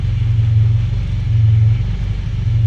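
A Honda K24 engine swapped into an EG Civic idles steadily and close by, a smooth low rumble with faint periodic pulsing throughout and no voices.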